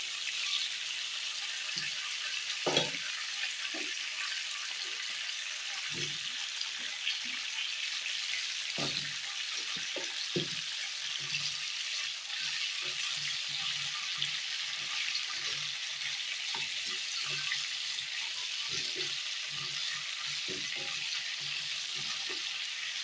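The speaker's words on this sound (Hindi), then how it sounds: "थोड़ी देर और फ्राई कर लूँ पहले फूलगोभी को।" Cauliflower and potato fry in a pan over a high flame, with a steady, quiet sizzle throughout and occasional soft clicks and scrapes of stirring.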